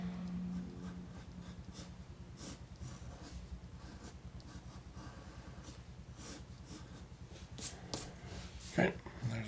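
Pencil sketching on paper while drawing a cartoon duck, close-up rhythmic scratchy strokes, repeated back-and-forth scribbles with a few sharper taps, under occasional talking.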